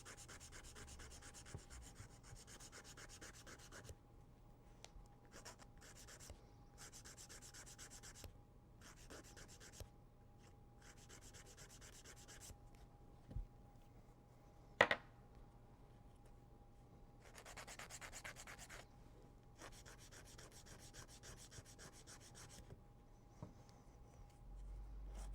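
An acrylic nail being filed to taper its corners, giving soft, rhythmic rasping strokes in short bursts separated by quiet pauses, close and faint.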